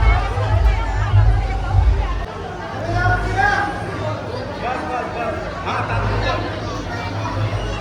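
Dense crowd hubbub at a village temple fair and palanquin procession in Uran taluka, steady babble of many voices close around with low rumbling noise throughout.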